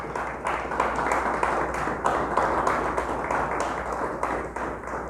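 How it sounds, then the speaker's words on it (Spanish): A church congregation applauds loudly and continuously, dense clapping sustained for several seconds with a few voices mixed in. "Le damos un fuerte aplauso a Dios."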